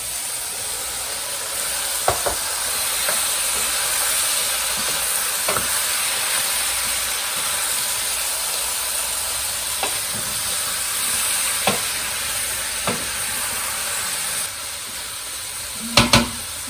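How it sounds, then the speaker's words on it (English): Sea scallops and steak saute in a hot pan with a steady, even sizzle throughout, broken by a few sharp clicks and scrapes of stirring, with a louder clatter near the end. "We're going to let this just saute just for a little bit."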